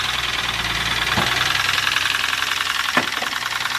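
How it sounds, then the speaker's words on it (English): A car engine with a blown head gasket idles with a rapid, rhythmic knocking tapping through the steady hum, close by and fairly loud. "Engine was knocking like crazy."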